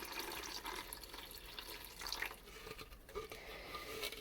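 Water pours softly and splashes into seedling soil in an indoor apartment container, faint and close, with small drips and trickles.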